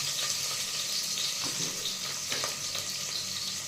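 Onions frying in a pan and stirred until golden, a steady loud sizzle running throughout with occasional scraping strokes, close up and with no one talking.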